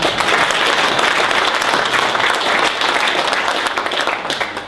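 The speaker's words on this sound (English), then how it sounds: "Ripple of applause now." A ripple of applause from the audience at a window-industry annual general meeting, a dense, loud, continuous burst of clapping from many hands that tapers slightly at the end.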